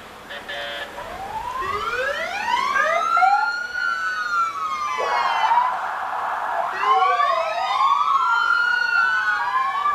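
Fire engine sirens wailing in rising and falling sweeps at a parade, including Tippecanoe fire rescue engine 942, several overlapping, with a steady electronic tone in the middle, loud and close.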